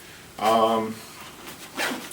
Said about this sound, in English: Opening up the pack, so this is the 3-zipper pack